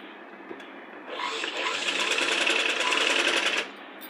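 A sewing machine stitches a child's Punjabi dress top, starting after a second and running at a steady, fast whir for about two and a half seconds before stopping, close and clear over faint background.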